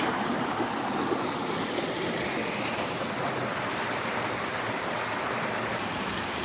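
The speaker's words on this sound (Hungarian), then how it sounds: "Mohos törzsű fák alatt csörgedezik a legújabb vízesés" Waterfall stream rushing under moss-covered trees in a gorge, a steady, loud, close broadband wash of water with no breaks and no voices.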